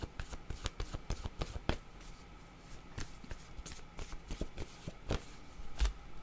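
Tarot-style word cards are shuffled and drawn by hand, a rapid run of crisp riffling flicks and slaps up close, then scattered single card snaps, with no talking.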